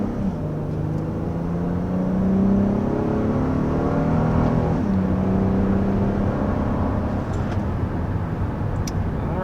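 A Honda Odyssey minivan engine accelerates hard uphill, climbing toward 60 mph. The steady engine note rises in pitch, dips once as it shifts, and keeps building, heard close from inside the cabin with no talking.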